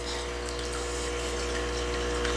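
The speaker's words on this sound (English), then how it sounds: "I also have a sponge filter in here as well. As you can see, I have it barely bubbling." Sponge filter bubbling gently in a betta breeding aquarium, a steady close watery burble with a low pump-like hum underneath.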